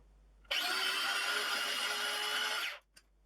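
A food processor blitzes falafel ingredients, giving one steady, loud whirring blast of about two seconds that starts and stops sharply.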